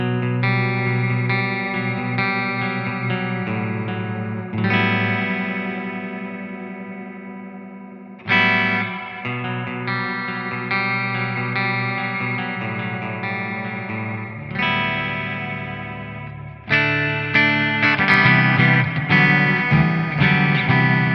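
Electric guitar through a JST Disruptor plugin on a clean amp tone with a bright reverb: sustained chords ring out with long washy tails, several strummed changes across the passage, with no talking.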